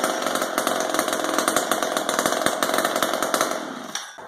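An old McCulloch chainsaw, freshly tuned, runs loud and close with a continuous buzzing engine drone and small pulses in its note, then cuts off abruptly near the end.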